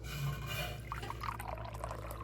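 A hot drink pours steadily into a glass, a continuous close liquid trickle with a low hum beneath and a few faint drips near the end.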